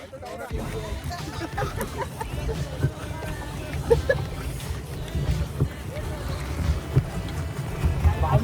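A pedal boat churns across the water at a beach resort in Daman, its paddles making a steady low rumble while wind buffets the microphone and people talk and call out over it.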